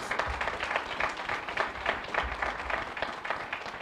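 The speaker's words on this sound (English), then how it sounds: "Let's please give Angela and her team a round of applause." Audience applause for a team of public servants at a bar association event, a modest, steady patter of clapping.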